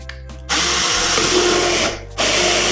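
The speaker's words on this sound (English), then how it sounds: "We're going to drill a hole straight through that." A power drill whirs loudly in two bursts drilling a hole through a Dollar Tree Christmas ornament, a steady high-pitched motor whine that stops briefly and then starts again.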